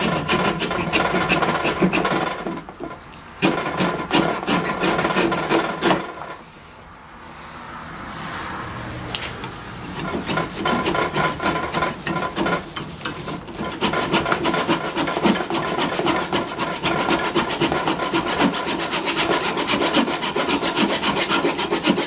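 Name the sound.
trimming wood with a gent saw and rasp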